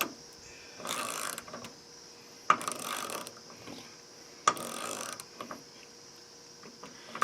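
A 90-tooth ratchet cranked back and forth, giving three bursts of fine rapid clicking, each about a second long, separated by short pauses with small knocks between strokes.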